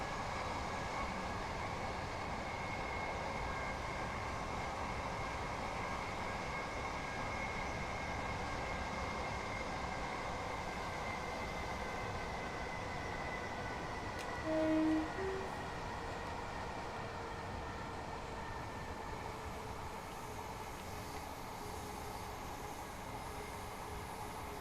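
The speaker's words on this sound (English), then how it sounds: "Bit of flange squeal going on here." In Train Simulator Classic, a train's wheel flanges squeal as it approaches Exeter St David's: a thin, steady metallic whine sits over a continuous low rumble of rolling stock, fairly quiet and unbroken.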